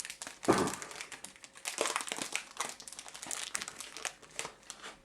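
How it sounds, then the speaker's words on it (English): Chocolate is torn from its wrapper and broken up into a bowl at home, giving close, crinkly tearing and snapping bursts that come in irregular clusters throughout, fairly quiet overall. "I do apologise as you can hear me tearing and clicking."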